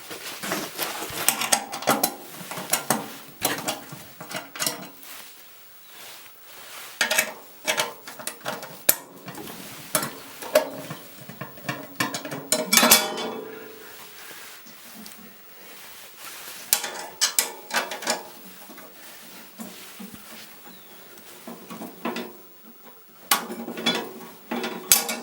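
A 10 mm box wrench works loose the bolts on the inspection cover of a Harbor Freight chipper shredder, with irregular metallic clicks, ratcheting and clinks of parts, close up and fairly quiet, in bursts with short pauses.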